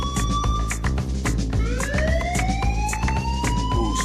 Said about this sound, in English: Find me a siren. I want a siren.